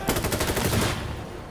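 Enemy machine gun fire in Insurgency Sandstorm: a rapid, loud burst of shots that rattles for about a second, then fades into a decaying echo.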